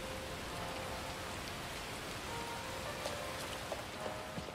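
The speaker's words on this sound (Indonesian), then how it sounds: "Oh hujan, oke hujan." Rain in the video game Neverness To Everness falls as a steady, even patter with scattered droplet ticks, continuous and moderately quiet throughout.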